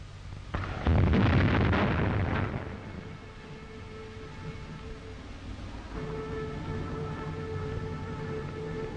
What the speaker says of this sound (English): A cannon shot announced the hour of 11 and a minute of silence.